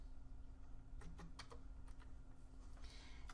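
Someone types a short search term on a computer keyboard, quiet clustered keystrokes in a few quick bursts over faint background hiss, with no talking.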